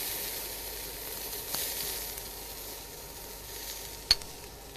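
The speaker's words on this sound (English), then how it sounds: "So now we are going to saute our peppers." Red, yellow and green peppers sauté in a little hot oil on a breakfast stovetop, giving a faint steady sizzle with a soft stirring clink near the end.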